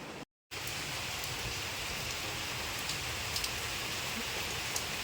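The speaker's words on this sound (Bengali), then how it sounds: "এই যে অনবরত বৃষ্টি পড়ছে" Steady rain falls continuously, a dense even hiss with occasional louder drops striking nearby surfaces; a brief dropout near the start.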